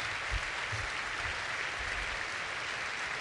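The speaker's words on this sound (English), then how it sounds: "I want them all to stand up and to receive the warm applause that they all deserve." Theatre audience at the Teatro Romolo Valli in Reggio Emilia applauds the Ferrari team at the SF1000 car presentation, a steady, even roar of many hands clapping, distant and faint, with occasional low thumps underneath.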